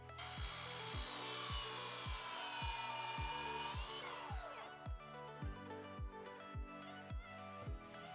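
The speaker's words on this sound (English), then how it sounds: "I think a miter saw is a pretty safe tool." Wood being cut with a power saw, steady rasping tone over a regular train of sharp rhythmic knocks, close and fairly loud throughout.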